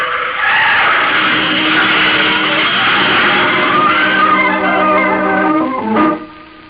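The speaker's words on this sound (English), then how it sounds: "He jams on the brakes, but it's too late. The heavy bus smashes into Ben Hogan's car." Heavy bus skidding on locked brakes and smashing into a car during a golfer's road accident, a long loud tire screech lasting several seconds that cuts off abruptly at the impact, with no talking.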